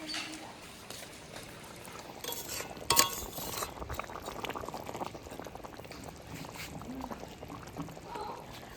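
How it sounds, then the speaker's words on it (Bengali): A pot of curry bubbling on the stove as a fish curry cooks, a soft continuous simmer with a brief clink near the middle and faint speech in the background. "আমার কিন্তু এই তরকারিটা ফুটে এসছে"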